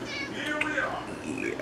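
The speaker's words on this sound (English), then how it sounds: "And this is my fat cat, fat kitty." A fat house cat gives a brief, close meow indoors, with a person's voice mixed in.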